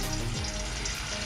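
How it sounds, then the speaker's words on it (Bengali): Paneer cubes fry lightly in a hot pan with a steady, close sizzle, a short continuous crackle with no voices. "পনিরগুলোকে এবার হালকা করে ভেজে নেব।"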